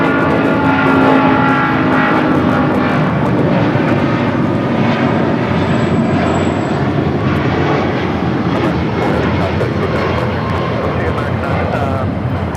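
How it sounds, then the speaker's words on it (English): An American Airlines Boeing 777-200ER in oneworld livery takes off at LAX, its engines roaring loud and steady throughout with a broad, sustained rumble, while a voice talks over the noise. "That is American Airlines Flight 4 taking off to JFK on the 777-200ER in the One World livery."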